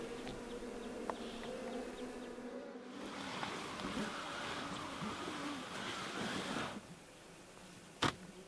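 Insects buzz steadily and close by in an old-growth forest along the Pärlälven river, a continuous whining drone of mosquitoes with a brief sharp click near the end; no one speaks.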